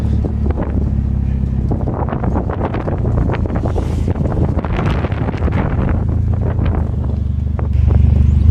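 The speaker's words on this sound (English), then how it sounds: "I don't know if you can hear it, but it is absolutely horrendous wind" Strong wind buffets the microphone in a constant heavy roar, with low rumbling gusts that swell louder toward the end.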